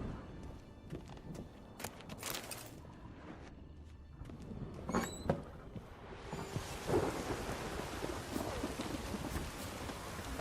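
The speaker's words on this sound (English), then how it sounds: "Storm, damn it." A thunderstorm in the video game The Witcher 3: steady rain hisses throughout while thunder cracks and rumbles build, with a loud roll near the middle and a dense downpour toward the end.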